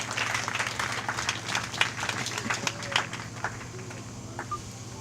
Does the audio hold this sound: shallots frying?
no